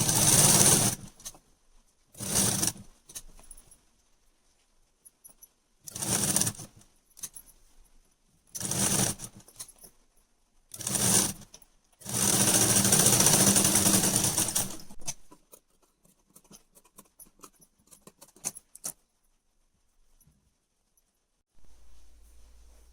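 A sewing machine stitches the neck strip of a kurti in several short bursts of whirring, then one longer run, separated by quiet pauses, close and clear with no talking.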